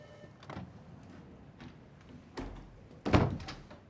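An indoor door is shut: a couple of soft knocks and handling sounds, then a heavier thud as it closes, fairly close in a quiet room.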